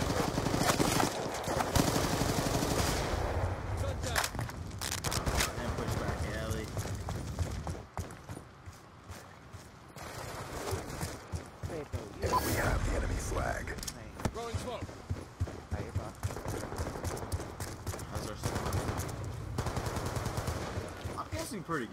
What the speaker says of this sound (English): How many shots did you put into him?